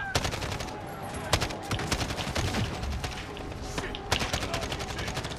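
Rapid bursts of automatic gunfire from Call of Duty Modern Warfare, including an AK-style rifle, come in repeated fast volleys with short gaps, loud and close, under occasional game sounds.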